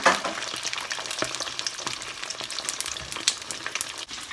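Steady crackling sizzle of fish frying in hot oil in a pan, with popping spatters and occasional scraping, close and continuous, no voices.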